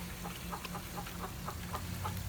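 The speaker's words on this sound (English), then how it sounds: "this one actually think it's a rooster, not chicken" A rooster clucks in a quick, rhythmic series of soft, evenly spaced notes, fairly faint over a steady low hum.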